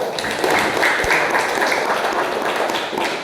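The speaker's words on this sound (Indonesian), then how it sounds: "tepuk tangan" Students in a geography classroom clap together in a short burst of fairly loud, close applause that continues at a steady level.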